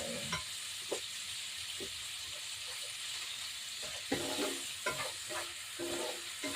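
Boneless chicken breast sautéing in a pan gives a steady close sizzle, with sharp scrapes and clacks of stirring that come irregularly and grow busier toward the end, and no one speaks.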